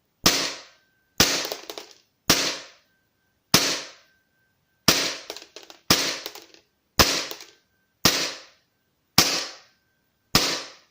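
A VFC Glock 17 Gen.4 airsoft pistol fires ten single BB shots, each a sharp crisp snap with a short decaying rattle, evenly spaced about a second apart, close and loud with no talking.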